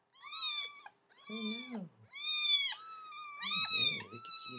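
A domestic cat meows four times in a row, clear drawn-out calls with short pauses between them, close and fairly loud, with a faint rustle under the last one.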